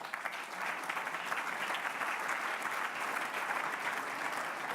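Steady applause from an audience at the 44th St. Gallen Symposium, a dense, even wash of clapping that holds at a constant level from start to finish with no voices standing out.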